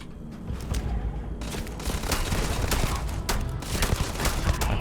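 Rapid gunfire from a newly equipped weapon in the space game Starfield, a dense, loud, sustained stream of shots and booms running almost the whole time after a brief quieter opening.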